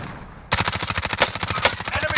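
MP5 submachine gun fire in a video game, starting abruptly after a brief quiet lead-in and continuing as a loud, rapid, evenly spaced stream of shots.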